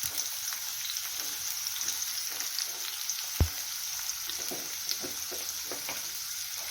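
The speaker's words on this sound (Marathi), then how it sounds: "तेल गरम झालं की त्यामध्ये आपल्याला बारीक चिरून घेतलेला कांदा ॲड करायचा आहे कांदा टाकून घेऊया" Finely chopped onion frying in hot oil for whole masoor curry, a steady crackling sizzle with scattered pops and one sharp clack of a utensil midway, no speech.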